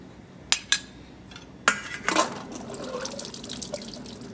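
Kitchen sink scene with canned pinto beans: a few sharp metallic clinks, then tap water splashing and running steadily, close and moderately loud.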